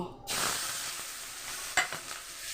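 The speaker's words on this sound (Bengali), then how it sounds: "যে তেলে মাছ ভেজেছিলাম সেই তেলেই আমি পেঁয়াজগুলোকে ভেজে নেব" Onions sizzle loudly in oil left over from frying fish, a bright continuous crackle that starts abruptly and carries on close up, with a brief stir or clatter near the end.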